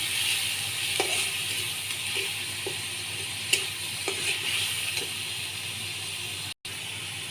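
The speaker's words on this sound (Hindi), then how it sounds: "देखो प्याज अदा लहसुन हमें तेल दी भाज देमा" Steady sizzling of onion, ginger and garlic paste frying in hot oil, with occasional soft stirring clicks and taps against the pan.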